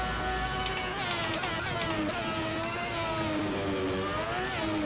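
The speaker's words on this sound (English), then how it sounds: "gotta love the sound of that V12 screaming down the start finish straight here at Imola" A Ferrari 640 V12 Formula One car in the Assetto Corsa racing game screams down the start-finish straight at Imola, a loud, sustained high-pitched engine wail with rising and falling revs and brief gear-change dips, no talk.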